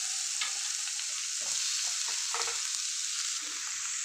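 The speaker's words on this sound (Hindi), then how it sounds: "चलिए अब इसको मैं इस तरह फ्राई कर रही हूँ।" Chopped onion frying in hot oil in a pan for egg paratha, a steady bright sizzle running throughout with occasional stirring scrapes and clinks of a utensil, close and clear, no talking.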